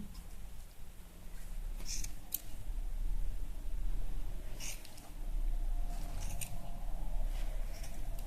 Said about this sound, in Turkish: Ve şimdi bunu kesmeye başlayacağım.